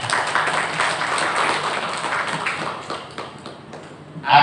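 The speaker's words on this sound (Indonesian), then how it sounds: "Tepuk tangan dulu Bapak Ibu." Clapping from an audience at a teachers' organisation ceremony, a dense patter of hands that swells early, gradually thins and fades, ending in a brief louder knock.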